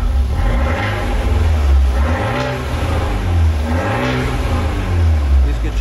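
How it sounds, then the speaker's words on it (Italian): Fiat 124 Abarth sports exhaust with its valves open, revving repeatedly in loud rising and falling surges, the deep engine note swelling several times close up. "Quando vogliamo il sound, schiacciamo on, le valvole si apriranno e questo è il sound classico del 124 ABA."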